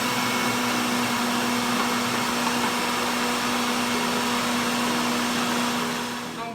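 A food processor whirs steadily, blending a crumb crust with melted butter for a pumpkin cheesecake, its motor hum loud and constant throughout with no talking over it, easing off slightly at the very end.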